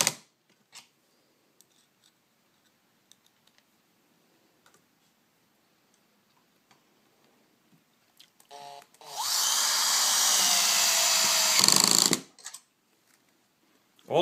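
A drill driver runs a square-drive self-tapping screw into a pre-cut pocket hole on a face frame jig, one steady whirring burst of about three seconds after a few faint clicks, close and loud.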